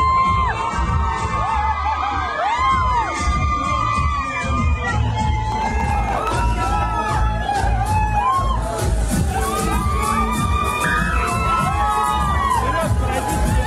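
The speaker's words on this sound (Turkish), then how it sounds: "Genç kızların çığlıkları içinde salona giren Burak Özçivit etkilenmiş görünüyordu." A crowd of young girls screams and cheers at a venue opening in Moscow, with dense overlapping high-pitched shrieks and whoops that rise and fall continuously, loud and close, over a babble of voices.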